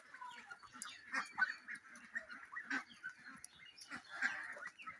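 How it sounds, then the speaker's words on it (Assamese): Domestic ducks, white Pekin and Khaki Campbell, on a small farm flock, honking and quacking in repeated overlapping calls at moderate distance, with no talk. "এয়া মোৰ হাঁহ"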